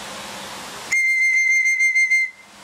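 A single sharp, steady high whistle to call pigeons sounds for about a second and a half after outdoor background noise, then cuts off.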